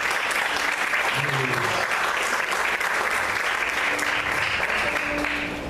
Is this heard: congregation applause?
yes